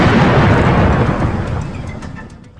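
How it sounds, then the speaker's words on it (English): A loud, deep explosion blast at the World Trade Center on 9/11 booms and rumbles, starting at full strength and then slowly fading into a lingering roar, with faint crackles toward the end. "What was seen, heard, and recorded were very well contained blasts having a booming or rumbling quality."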